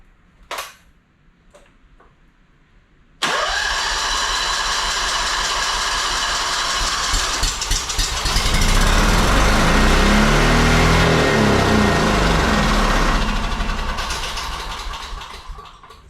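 A 2-cylinder Honda engine that sat unused for ten years cranks and fires abruptly after a few clicks, then runs loud and rough, climbing in revs midway before easing back.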